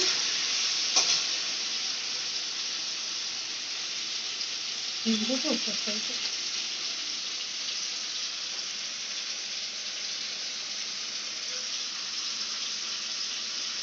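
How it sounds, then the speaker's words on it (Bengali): Water splashed into spices frying in a hot pan for a dhokar dalna, giving a steady, close hiss of sizzling and steam, with a brief bubbling burst midway and a soft tap-like trickle early on. "এর মধ্যে একটুখানি জল দিয়ে দিচ্ছি যাতে পুড়ে না যায়"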